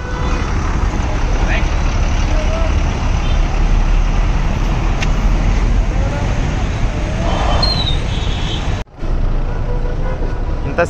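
Road traffic jam with buses and cars, a loud, steady rumble of engines and roadway noise that fills the whole stretch, broken by a brief dropout near the end. Faint voices sit under the traffic.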